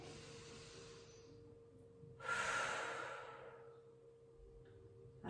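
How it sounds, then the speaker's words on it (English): A single deep breath from a guided relaxation session, a broad breathy rush starting mid-clip and fading over a couple of seconds above a steady low hum and quiet room tone. "Let's take 4 big breaths in and out"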